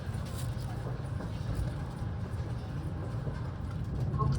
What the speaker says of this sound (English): This is the Nozomi Super Express